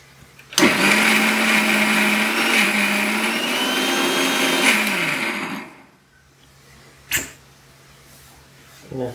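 Mixer grinder grinding beetroot curry masala with water: a loud, sustained motor whine running for several seconds before stopping, followed by a quieter stretch with a couple of brief knocks.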